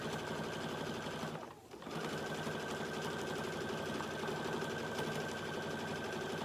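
Close, steady whirring of a sewing machine stitching through a quilt sandwich, with a brief pause of the needle before the even mechanical rhythm resumes and continues to the end.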